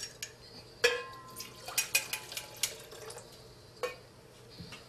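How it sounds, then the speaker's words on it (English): A soil sample stirred in water in a container, producing a string of sharp clinks and taps against the sides with light sloshing between them, close and fairly quiet. "we're going to mix it up a little bit just to get the soil particles suspended"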